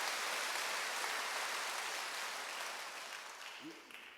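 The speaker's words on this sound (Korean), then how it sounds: "빨리 박수하세요" Church congregation applauding during a Wednesday worship service, a dense even wash of many hands clapping that fades gradually toward the end, with a brief voice near the close.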